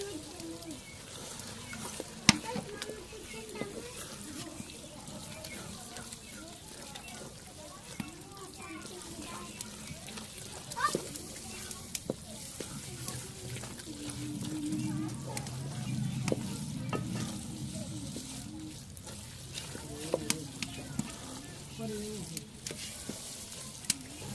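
Egg and browned cabbage frying together in a pan for a village-style band gobhi anda dish, a steady crackling sizzle with occasional scraping stirs and small clicks throughout, a voice talking over it at times.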